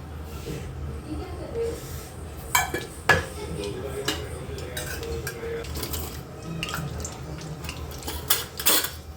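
Metal pots, pans and utensils clatter in a home kitchen as a kadhai is set to heat for Puneri misal, with irregular clinks and knocks over a steady background hum, a few sharper hits standing out.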